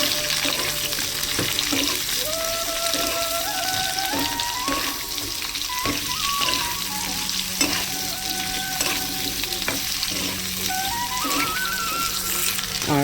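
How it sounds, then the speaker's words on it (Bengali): Cut potatoes frying in oil in a village kitchen, a steady loud sizzle throughout with occasional stirring scrapes, no voices. "আলুকে দিয়ে ভালো করে তেলের সঙ্গে লাল করে ভেজে নেবো আমি।"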